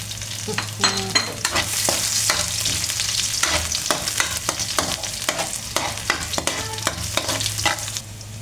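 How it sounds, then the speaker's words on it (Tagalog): Ricado aromatics sauté in a hot pan with a bright, continuous sizzle and frequent stirring scrapes, over a low steady hum, close up and with no talking. "maggigisa na ko na una yung ricado"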